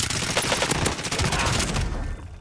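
Dense, continuous gunfire in the shooter game Warzone, a loud unbroken barrage of overlapping shots that fades out abruptly at the end.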